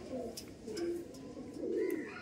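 Rampuri pigeons coo in soft, low repeated phrases close by, the calls rising and falling over about two seconds with faint chirps and cage rustle around them.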